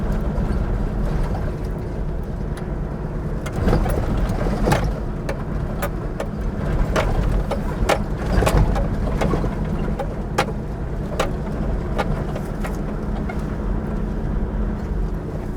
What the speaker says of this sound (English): we're just driving along the track